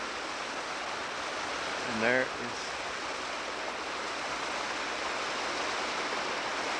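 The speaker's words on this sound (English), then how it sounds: "the waterfall" Constant hiss of rushing water from a Colorado waterfall fills the scene at even loudness, with a brief voice speaking over it partway through.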